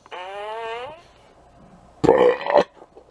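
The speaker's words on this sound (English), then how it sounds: "That's a belch right there." A single loud, rough belch lasts about half a second, preceded by a drawn-out tonal vocal sound and a short pause.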